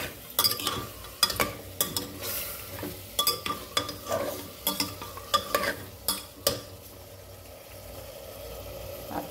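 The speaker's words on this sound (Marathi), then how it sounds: "हलवून घेऊ आता आपण." Mutton and tomatoes are stirred in a frying pan, with a spoon scraping and knocking in an irregular run of sharp clinks over a low sizzle, close and fairly loud, with no talking.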